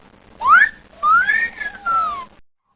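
A parrot gives three clear rising and falling whistles, close and fairly loud, the first short and the next two longer and drawn out, with quiet between them.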